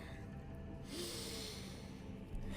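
A voice imitates sniffing during a tabletop role-playing game, with quiet breathy intakes and one longer nasal draw heard close up on its own.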